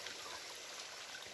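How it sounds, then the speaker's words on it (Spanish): Small creek running full after heavy storms, a steady broadband rush of flowing water, close and continuous without talking. "el ruido de esta quebradita. Tiene bastante agua por las fuertes tormentas últimas que han caído."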